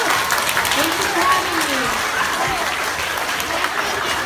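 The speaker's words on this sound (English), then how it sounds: "can we give one big round of applause and say thank you, Rachel?" Children at a school author visit break into a round of applause, a steady dense wash of clapping from a roomful of kids that holds loud and even throughout, with an adult voice faintly audible beneath it.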